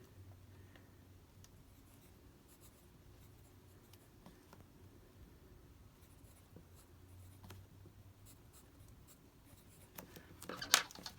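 An HB Spangle Blue Mini-Jumbo round pencil scratching faintly across paper in short close strokes, quiet and soft with a sharper scrape near the end.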